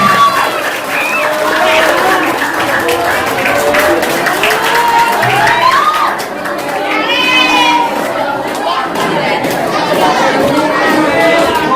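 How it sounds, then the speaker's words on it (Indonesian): Students at a school legal outreach session on bullying and social media ethics applaud, clapping mixed with a lively din of young voices and chatter, loud and continuous throughout. "Tepuk tangan buat saya."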